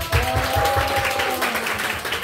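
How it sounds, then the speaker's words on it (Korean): At a church winter retreat, a room full of people claps for four latecomers who have just arrived, a steady, fairly loud burst of applause with no talk over it. "우리 병현이랑 서경이랑 희애랑 신아 도착했는데 우리 박수로 격려하겠습니다"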